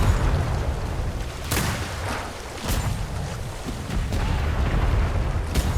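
Heavy cannon fire from a Royal Navy sailing warship in a roleplay game, several deep booming shots spaced a second or so apart over a rumbling battle background, with no talking.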